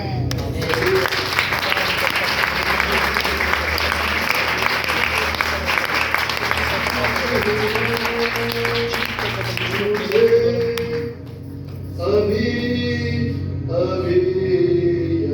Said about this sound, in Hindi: ताली बजा करके सब उस परमेश्वर का स्वागत करें